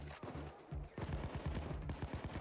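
Minigun fire in Payday 2, a dense rapid stream of gunshots hammering on without pause, loud and continuous with a brief dip partway through.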